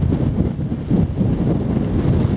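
Wind gusts roar steadily across a hillside on a sunny walk near Windover Hill on the South Downs, buffeting the microphone with a loud, continuous low rumble and no talk.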